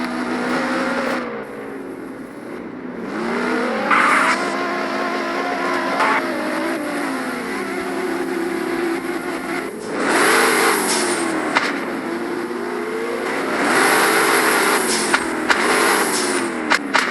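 A video game car engine in Prodigy Drift revs and drones continuously, pitch rising and falling as tires screech in loud bursts, like a vehicle drifting through turns.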